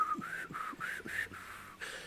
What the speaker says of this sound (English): I can't do the whistle anymore.